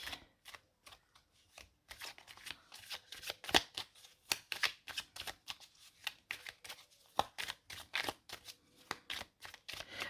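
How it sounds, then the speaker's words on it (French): Oracle cards being shuffled by hand during a card reading, a close series of quick papery riffles and soft slaps in irregular bursts with no talking. "je suis en train de brasser, mais le pied n'est pas assez haut, du coup, ça bouge"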